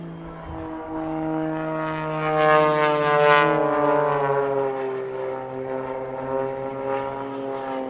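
A propeller aircraft drones loud and close in an aerobatic display over Southport Pier at the 2022 Southport Airshow, its engine pitch swelling and easing as it rolls through a continuous turning manoeuvre.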